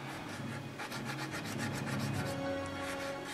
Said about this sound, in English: that's easily enough accomplished with a little bit of work from the sanding stick